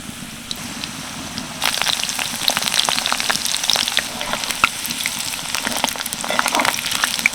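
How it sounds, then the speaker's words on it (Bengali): Chili rolls sizzle loudly in hot oil, starting quieter and then bursting into dense, crackling frying with scattered pops; no one speaks. "আরও বাকিগুলো আমি একইভাবে ভেজে নেব"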